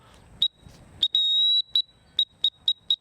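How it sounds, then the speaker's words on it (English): A high, shrill dog training whistle blown in short peeps with one longer sustained blast, about eight bursts in an irregular rhythm, close and clear with no talking. "I peeped the whistle. I like a little British whistle."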